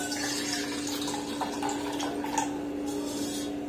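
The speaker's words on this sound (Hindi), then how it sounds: "इसका गंदा पानी निकाल देंगे।" Dirty water pours and splashes steadily off soaked lentils, a continuous trickling wash with occasional gurgles, close by.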